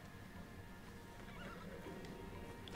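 A horse in the video game Red Dead Redemption 2 gives a faint whinny amid a low, steady background of hooves and game ambience, quiet and somewhat distant.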